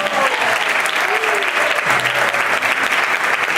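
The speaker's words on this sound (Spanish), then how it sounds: "Dar un aplauso al que vive por los siglos de los siglos." A church congregation applauds in worship, loud and sustained clapping from a packed room, with a faint voice briefly audible beneath the steady roar.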